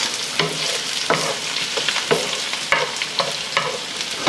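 Onions fry in oil in a pan for bistek Tagalog, turning soft and caramelizing at the edges, with a steady close sizzle broken by rhythmic stirring scrapes every half second or so, alone without voices.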